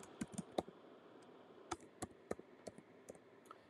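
Keys clatter on a computer keyboard in a quiet room, a string of light, close taps in an uneven rhythm with short pauses between bursts.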